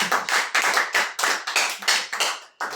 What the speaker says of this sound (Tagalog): Palakpakan natin ang Panginoon. Malakas na palakpak.